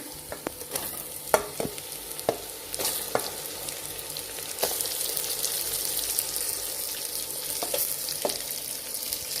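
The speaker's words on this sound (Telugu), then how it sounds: "ఇప్పుడు ముందుగా శుభ్రంగా కడిగి పెట్టుకున్న ఈ బోటిని దీంట్లోకి వేస్తున్నా" Cleaned goat tripe goes into hot masala and fries, starting with scattered sharp clinks and stirring sounds, then settling into a dense, steady sizzle.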